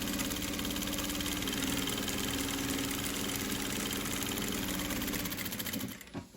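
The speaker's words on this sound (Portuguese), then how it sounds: "Só fazer uma costura reta, sem dar retrocesso." A sewing machine runs a continuous straight stitch without backstitching, a steady mechanical whir at a constant pace, close and fairly loud, stopping abruptly at the end.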